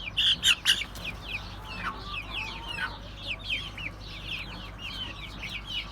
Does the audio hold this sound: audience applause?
no